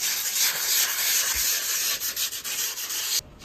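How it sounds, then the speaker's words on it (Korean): Hand sanding of a wallpaper seam with sandpaper during DIY wallpapering: a close, steady, scratchy rubbing that runs for about three seconds and then stops abruptly. "이런 식으로 사포질을 해주시면 됩니다."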